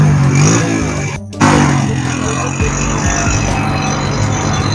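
Motorcycle and tractor engines drone loudly and continuously during a pulling competition, a rough, dense mechanical roar with a brief dip near the start and constant background clatter.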